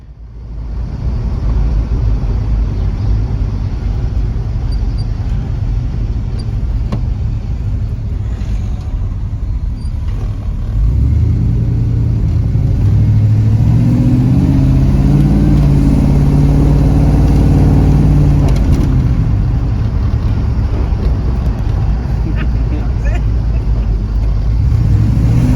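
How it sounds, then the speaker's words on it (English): A V8 car engine rumbles steadily, then grows louder and deeper as it accelerates through a village, a throaty drone echoing off houses, with no one talking. "listen to the V8 noises bouncing off the houses"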